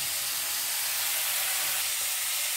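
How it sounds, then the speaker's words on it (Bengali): Green cauliflower frying in a pan for a Bengali cauliflower and egg curry gives off a steady, even sizzle with broad hiss, continuous and fairly close throughout, with no voices over it. "ততক্ষণ আমার কপিটা ভাজা হচ্ছে।"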